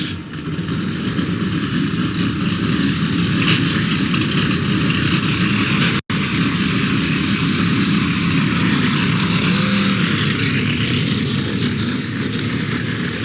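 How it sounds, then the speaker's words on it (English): Several NASCAR truck engines starting and roaring together at a race, a loud steady rumble with a brief dropout midway, then continuing at full volume. "Love the sound of those engines fired."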